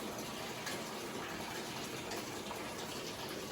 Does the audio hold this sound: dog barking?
no